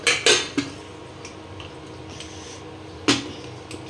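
A brass pressure cooker lid is closed, with a few sharp metallic clanks near the start and another clunk about three seconds in, separated by quiet kitchen background.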